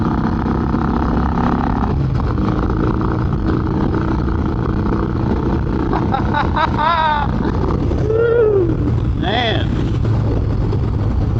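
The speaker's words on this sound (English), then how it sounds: "I just put a new carburetor on this one, and it runs really fucking good" An Indian motorcycle engine fitted with a new carburetor runs loud and close, holding a steady throbbing idle that swells briefly as it is revved, with someone talking over it.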